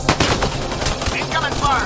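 Incoming gunfire in the Mass Effect video game, rapid loud bursts of automatic shots cracking in quick succession with dense combat noise.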